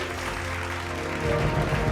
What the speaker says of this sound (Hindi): जोरदार तालियां विनय बिहारी जी के लिए